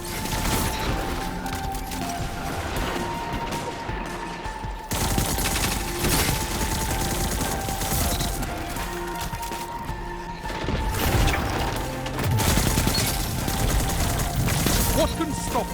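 The Perpetualis auto rifle firing in Destiny 2 Lightfall, sustained rapid automatic bursts broken by short pauses, loud and close, with game effects and booms mixed in.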